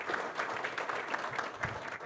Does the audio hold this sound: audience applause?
yes